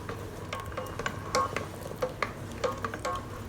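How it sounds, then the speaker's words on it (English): Rice soup is stirred while beaten egg is slowly poured in: soft, steady scraping of a utensil in a pot with occasional light clinks and a faint simmering hiss underneath, with no voices. "While stirring, we'll slowly pour the egg in."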